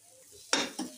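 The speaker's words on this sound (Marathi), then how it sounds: "चांगला हलवून घेऊया." Egg chutney stirred in a pan with a little coriander added, giving two short, close scraping strokes of a spoon against the pan over a faint background.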